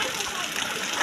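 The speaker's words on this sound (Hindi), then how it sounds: "ये काफ़ी रिमझिम काफ़ी तेज़ बारिश, और ये रास्ते पे भर के पानी चल रहा है" Heavy rain with water rushing along a village road, a dense, steady wash of noise heard close and fairly loud throughout.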